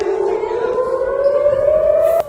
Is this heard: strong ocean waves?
no